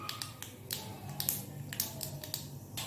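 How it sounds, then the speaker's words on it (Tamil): Sharp crackling pops burst irregularly, a scattered series of sizzling spits and snaps from mustard seeds spluttering in hot oil, close up. "இப்போது கடுகு நல்லா வெடிச்சிருச்சு, அதில் கருவேப்பிலை சேர்த்துக்கலாம்."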